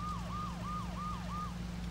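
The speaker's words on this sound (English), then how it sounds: "Oh, it was my siren still on." A police siren left running on a car in the video game Saints Row 2, wailing in a steady repeating up-and-down cycle about five times, moderately loud over a low engine hum, with no talk.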